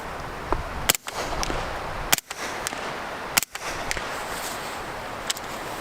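Suppressed shots from an M4A1 assault rifle, three sharp muffled cracks spaced about a second apart over a steady outdoor background hiss.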